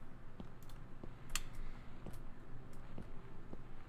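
Soft, sparse typewriter clicks in the video game Gone Home, a handful of isolated taps at irregular intervals over a faint background hum, one sharper strike standing out.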